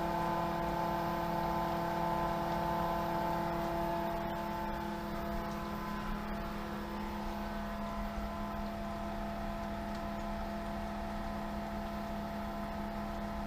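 Pentair SuperFlo variable-speed pool pump running at 2000 RPM, a steady, continuous motor hum with a strong tonal drone and a whooshing flow noise, unchanging throughout and heard alone.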